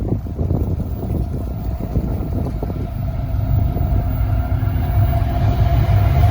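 A westbound CSX freight train rolls past on track 2, a continuous heavy rumble of wheels and cars with rattling clanks, steady and loud throughout, with a faint tonal whine building toward the end.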